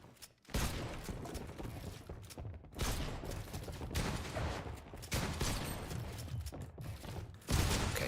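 Gunfire in a shooter video game during headshot practice, with bursts of rapid shots in several long stretches separated by short breaks, loud and close and steady within each burst.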